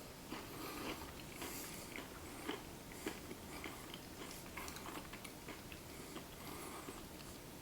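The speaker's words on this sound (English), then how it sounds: "That's my serious chewing." Peanut brittle being chewed close to the mouth, giving a steady run of crisp crunches and clicks with irregular louder bites, without talk.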